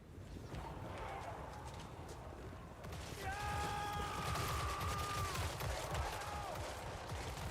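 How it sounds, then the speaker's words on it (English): A musket volley from gunners in Total War: Warhammer 3 crackles as layered distant firing under a steady battlefield din, with a horn-like tone and shouting voices blending into the mix. "All ranks fire."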